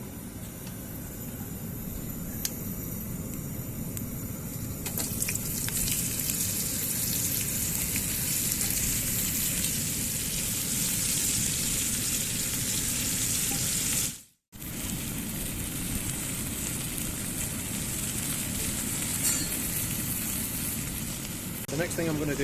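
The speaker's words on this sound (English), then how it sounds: "First thing that I'm going to do is I'm going to saute and brown off the meat." Meat and onions dredged in flour sauté in a pan for a trench-style Maconochie stew, a steady close sizzle running throughout with a brief dropout partway.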